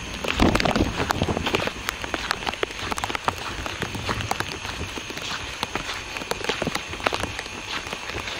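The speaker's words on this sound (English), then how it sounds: "Still raining. Hasn't stopped raining yet." Steady rain falls across a low, swampy stretch with tamarack trees under an overcast sky, a continuous close patter of drops on leaves and ground with scattered sharper splats throughout.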